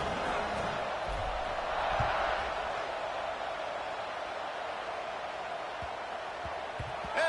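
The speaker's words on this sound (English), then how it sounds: "this crowd is buzzing after that last score" A stadium crowd in the College Football 26 video game, Ohio State at Michigan, buzzes with a dense, steady roar and murmur of cheering that swells slightly and then holds under the game.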